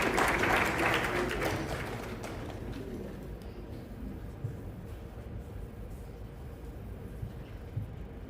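Audience applause welcomes a speaker at a live grand finale event, loudest at the start and then fading into a lower, steady crowd murmur with scattered claps.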